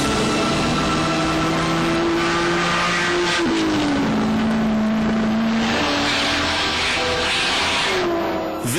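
A Ford GT40 race car's engine roars loudly and steadily, its pitch holding then dropping as it shifts, with a continuous high-energy drone and no voices over it.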